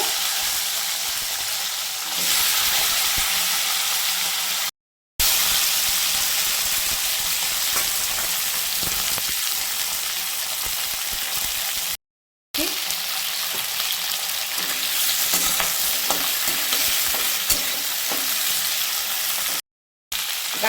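Vegetables for a Bengali sukto fry in a pan, a dense, continuous sizzle heard up close with faint stirring scrapes, broken by a few very short silent gaps.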